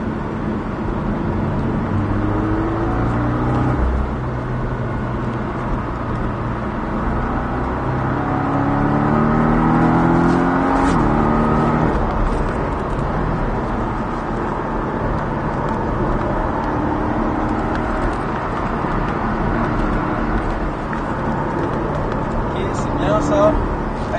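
A Porsche Cayman S lapping the Luc race circuit, its engine a steady droning whir that swells and eases as it accelerates and brakes, heard from inside the car under continuous talk.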